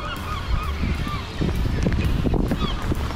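Geese honk loudly and repeatedly as a large flock flies overhead through the rain on a city street, a dense, overlapping chorus of calls over steady rain hiss.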